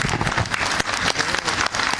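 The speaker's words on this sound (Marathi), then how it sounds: "सगळ्यांनी उभं राहून एकदा टाळी वाजवावी" A standing crowd claps together at a ceremony where a saint title is conferred, a dense, loud, continuous wash of applause filling the whole moment.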